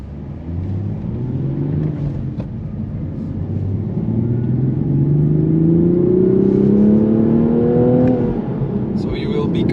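A 2023 Toyota GR Supra with manual transmission driven on a race track, heard from onboard: the engine rises steadily in pitch under acceleration, with a shift partway through and a lift near the end, while people talk over it.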